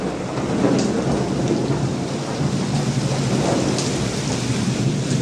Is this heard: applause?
no